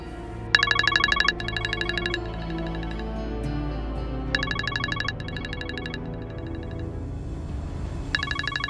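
A phone ringtone sounds in a scene from an Indonesian TV drama, chiming in repeated electronic bursts with pauses between them, over a steady low background of music.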